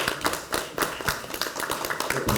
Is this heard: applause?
yes